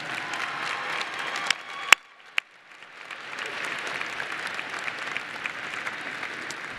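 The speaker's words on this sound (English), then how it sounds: "please join me in a round of applause for your family and friends who are here this morning" Commencement audience at a Ball State University fall graduation ceremony applauding steadily, a broad continuous wash of clapping from a large crowd with a few sharp nearby claps standing out, briefly thinning around the middle before swelling again.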